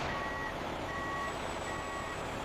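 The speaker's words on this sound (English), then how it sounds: "Massive trucks deliver compressed coffee grounds to the automated receiving station." A delivery truck's reversing alarm beeps at an automated receiving station for coffee grounds, three evenly spaced tones heard faintly over a steady broadband rumble of engine and background noise.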